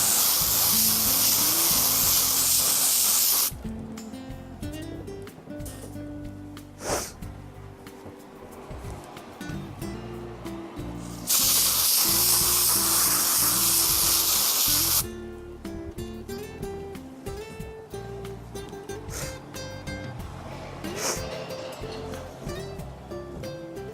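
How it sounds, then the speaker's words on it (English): Spray adhesive hisses onto upholstery cushioning in bursts, a bright, loud aerosol spray coming in a few long and short blasts, with quieter handling noises and rustling between them. "We're going to spray this, spray the cushioning,"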